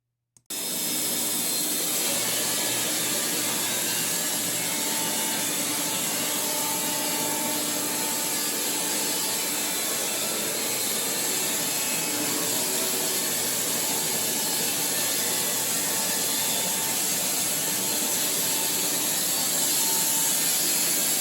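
Steady, continuous whine of an LT15 portable sawmill blade cutting through a small log, loud and sustained with a bright hissing edge, after a brief quiet start.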